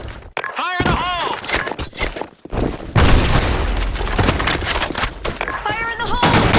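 Grenade blasts in a video game boom loudly as broad, rough bursts, mixed with gunfire and shattering debris, with game voices calling out over the action.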